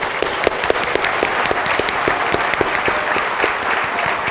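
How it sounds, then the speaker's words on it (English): An audience at a Huntington's disease research forum applauds steadily, a dense, even wash of many hands clapping throughout, with no break. "So could we give George a round of applause, please?"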